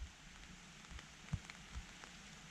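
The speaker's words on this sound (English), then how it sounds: "The rain has begun." Rain falls on a wild camp during a dirt bike trip, a soft, steady patter broken by occasional louder drops. The sound stays faint and close throughout, with no talking.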